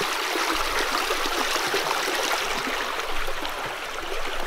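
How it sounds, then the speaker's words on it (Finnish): Spring water rushes in a small stream outdoors, a steady, close, broadband babbling flow that stays even throughout with no talk. "Se on lähde vettä."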